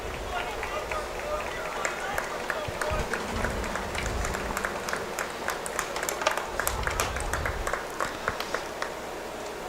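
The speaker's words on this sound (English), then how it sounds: "Resounding applause from the Sewanee faithful." Sewanee fans applaud at a men's college soccer match against Piedmont, a steady spread of crowd clapping with scattered sharp claps that carries on under the background noise for several seconds.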